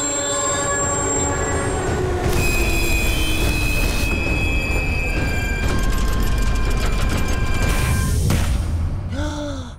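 An animated subway car rolls in on the rails with metallic wheel squeals, a horn-like tone and a steady rumble, loud and close, ending in a screeching stop.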